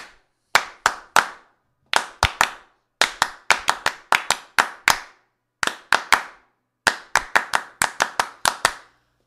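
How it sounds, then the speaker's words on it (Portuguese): Rhythmic hand clapping opens a song in a samba-style pattern, with quick groups of three to five sharp claps separated by short pauses, repeating close up and clear with no voices. "Tocamos com palmas aqui o início da música"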